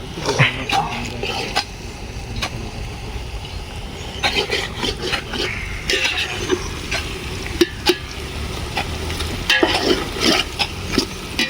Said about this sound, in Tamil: வெங்காயம் நல்லா வதங்கிடுச்சுன்னு நினைக்கிறேன்.